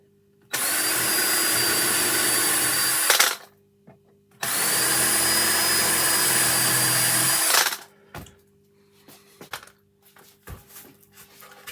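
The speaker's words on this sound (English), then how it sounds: "Alright, so let's just drill into here." A power drill whirs loudly into wood in two sustained bursts of about three seconds each, followed by a few quiet knocks and clicks.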